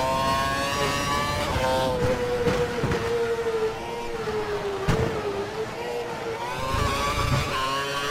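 An F1 2012 race car engine during practice laps on the India circuit: a steady, loud, high-pitched whine that rises and falls in pitch as the car accelerates and brakes, with no voices over it.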